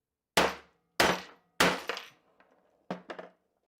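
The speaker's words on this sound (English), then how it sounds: "And then just hit it with a hammer." A hammer striking a metal disc cutter set to punch an oval, four loud, ringing blows in an uneven rhythm, the last one followed by quicker lighter taps.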